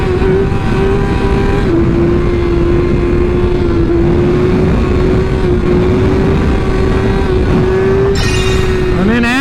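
A motorcycle engine holds a steady, loud drone with a sustained tone through a wheelie, easing slightly then rising in pitch near the end; a voice is faintly present under the engine.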